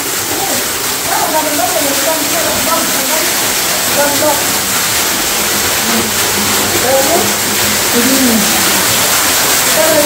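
A waterfall in a cave area gives a constant loud rushing hiss of falling water, with faint voices and bird-like chirps scattered through it.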